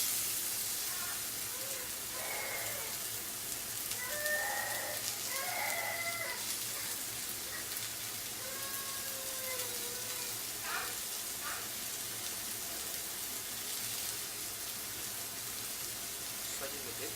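Onions fry in a pan with a soft, continuous sizzle and scattered crackles, fairly quiet, while bird-like chirps and distant fowl calls drift in over a low background hum.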